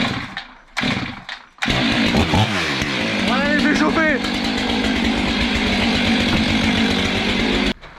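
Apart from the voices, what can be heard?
Stihl MS500i chainsaw starting and running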